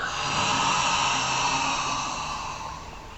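A long, slow exhale from a person doing a meditation breathing exercise, a steady breathy rush that stays loud and close, then gradually fades toward the end.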